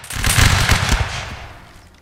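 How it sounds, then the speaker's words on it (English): A line of soldiers fires a musket volley in a Napoleonic Wars battle game. It is a loud, dense, crackling burst of many overlapping shots that rolls on for a moment, then fades out. "Good volley. Very good shooting, I see."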